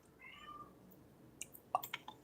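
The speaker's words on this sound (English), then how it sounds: "Did you hear the cat meow?" A pet cat named Archie meows indoors, a few short, faint cries at the end against a quiet background of rain.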